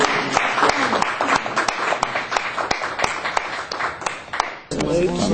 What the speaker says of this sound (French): Bon, alors, applaudissements.